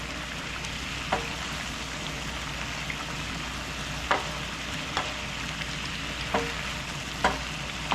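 Thick Tex-Mex sauce reduces in a pan with a steady close sizzle and bubbling, broken every second or so by faint scrapes or taps, with no talking.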